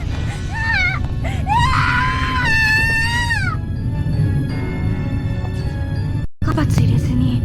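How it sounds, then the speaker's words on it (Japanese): A girl's high, wavering scream from the horror video game Corpse Party rises in a few long cries over a dense, rumbling game soundscape, then breaks off abruptly before the background returns. "女の子の悲鳴が上がる。"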